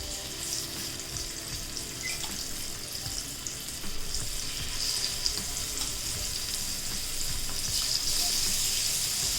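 Prawns frying in hot oil in a home kitchen, giving a steady, close sizzling hiss with small crackles that grows slightly louder midway, alone without talk.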